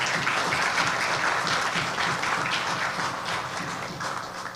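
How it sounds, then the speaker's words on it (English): Sustained audience applause at the launch of a national digital agenda, a dense steady wash of many hands clapping, loud and continuous throughout and gradually easing slightly toward the end. "ask if we can kindly give our team at the e-governance unit a big round of"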